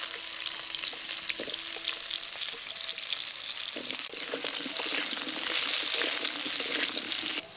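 Diced potato and papaya sizzle steadily in hot oil seasoned with a bay leaf and whole cumin, a dense continuous frying hiss that grows slightly louder toward the end, with occasional soft stirring clatter beneath.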